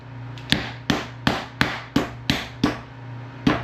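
Chicken breast is pounded flat under plastic wrap with a mallet, producing eight sharp, evenly spaced thuds close to the microphone over a low steady hum, with no talking.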